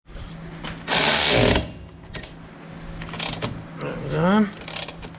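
A socket wrench ratchets on the bolts of a Miata mid pipe with short bursts of clicking and metallic rattles, close up, with a brief spoken remark partway through.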